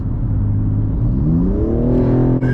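A 600 hp BMW M3 G80 in sport mode accelerates hard, its engine note climbing steadily in pitch from a deep growl to a louder rising roar inside the car, with no talking.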